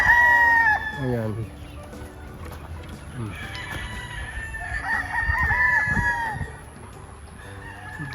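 Several bull stag roosters crow loudly and repeatedly at close range, with overlapping cock-a-doodle-doo calls and some clucking from other fowl nearby and someone talking in the background.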